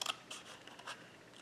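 Scissors snipping through card stock for a mini slimline interactive card, a few short crisp cuts close by with quiet gaps between.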